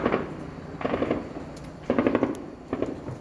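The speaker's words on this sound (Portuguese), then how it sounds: "As imagens gravadas por moradores mostram um helicóptero voando em círculos enquanto traficantes atiram de uma área de mata." Gunfire from traffickers shooting out of a wooded area in Complexo do Salgueiro, São Gonçalo, near Rio: rapid bursts of shots in several volleys, fairly loud with a distant, echoing quality, separated by short pauses.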